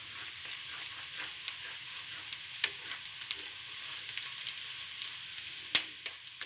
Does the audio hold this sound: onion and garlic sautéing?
yes